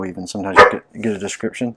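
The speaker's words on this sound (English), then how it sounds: "I apologize for the barking in the background." A person talks throughout while a dog barks a few times in the background, the barks mixed in with the speech.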